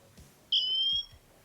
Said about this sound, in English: it will sound the alarm. It will give you a preview of the alarm every second